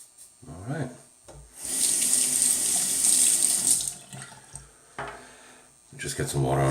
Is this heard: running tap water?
yes